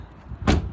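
Door of a Volkswagen Golf Cabriolet (Mk3 or Mk4) being shut: a single solid, close-up slam with a short low thud, standing out briefly over a quiet garage background.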